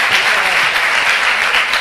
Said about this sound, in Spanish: Un aplauso, muy bien.